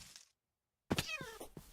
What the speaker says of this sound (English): Cat noise.